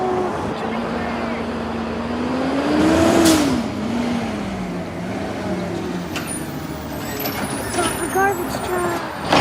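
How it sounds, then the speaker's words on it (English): A garbage truck collecting yard waste rumbles close by with a steady engine drone, a rising and falling whine, and sharp hisses of air brakes around the middle, while voices talk over it. "Garbage truck."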